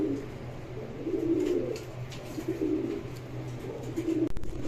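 A yellow Lakkha pigeon hen coos in repeated low, throaty rolling phrases, close and moderately loud over a faint steady background hum, ending with a short clattering rustle.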